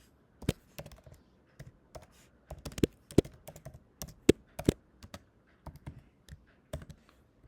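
Typing code on a computer keyboard, with separate close key clicks in short irregular bursts and small pauses between them, plainly audible against a quiet background.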